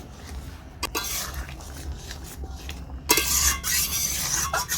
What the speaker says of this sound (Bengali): এবার এর উপর আমি দিচ্ছি গরম মশলা গুঁড়ো, দিয়ে দিচ্ছি চাট মশলা, সব কিছু মিশিয়ে দিচ্ছি।